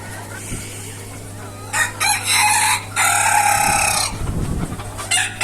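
Chickens on a desi poultry farm, with a rooster crowing loudly and close in several long bursts while hens cluck beneath, over a steady low hum.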